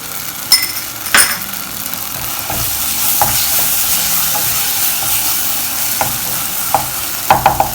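Turmeric, chili and garam masala powder sautéing in a hot pan, a steady close sizzle broken by sharp scrapes and clinks of a spoon stirring against the metal.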